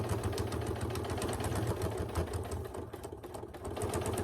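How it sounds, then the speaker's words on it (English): A sewing machine with a walking foot runs steadily, stitching along a line on fabric for a storage box, its fast even mechanical chatter close and continuous throughout. "And then I'm just going to sew on this gray line."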